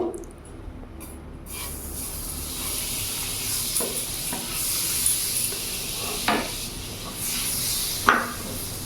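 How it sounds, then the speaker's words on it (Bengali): Butter hits a hot frying pan and breaks into a loud, steady sizzle within about a second, broken by a few louder spitting bursts and scraping stirs. "ফ্রাই প্যানটা আমার গরম হয়ে গেছে। এখানে আমি বাটার দিয়ে দেবো।"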